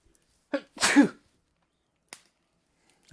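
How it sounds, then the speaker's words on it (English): A single loud, close sneeze, a short sharp intake then an explosive burst, followed by a faint click; no talking. "I gotta sneeze."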